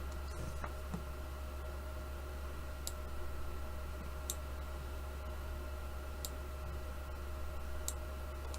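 Computer mouse clicks during video editing in DaVinci Resolve 14, a few sharp isolated clicks spaced a second or more apart over a steady low hum.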